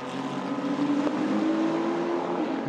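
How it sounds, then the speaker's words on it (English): Race cars at the 4 Hours of Imola 2024 endurance race, including a GR Racing Ferrari, howl past loud and close in one sustained engine drone that rises slightly in pitch over a few seconds. "Manu Collard attacking Mike Wainwright in the GR Racing Ferrari"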